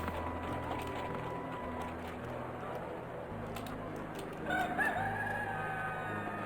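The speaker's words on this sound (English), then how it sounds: "A chicken!" A rooster crows once, fairly clear, over a steady low game background ambience in Albion, with no speech during the call.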